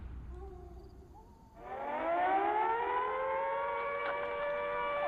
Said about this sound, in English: I love that we start with the air raid sound.